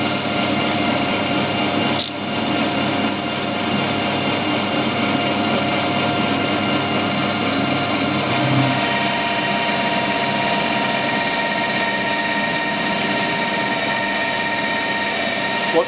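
A lathe screw-cutting aluminium in a workshop, a steady loud motor whine with a scraping cutting noise and a brief knock early on, running continuously without speech.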